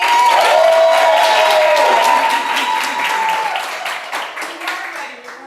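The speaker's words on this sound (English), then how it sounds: "Round of applause, please." An audience breaks into loud applause that gradually thins out and fades over a few seconds.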